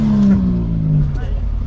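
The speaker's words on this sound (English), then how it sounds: "shall I give him some revs?" A car engine revs with a rising, sustained growl that stays loud and close throughout, while a voice talks over it, apparently at a car show.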